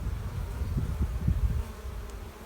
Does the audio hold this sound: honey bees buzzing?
yes